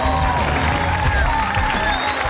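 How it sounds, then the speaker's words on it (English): Studio audience applause for reality game show contestants, a broad clapping wash mixed with music tones and light cheering, fairly loud and steady. "Give them a big round of applause."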